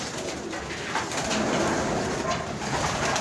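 Racing pigeons in a loft coo softly under a constant broadband wash of noise, a steady murmur with no clear individual calls standing out.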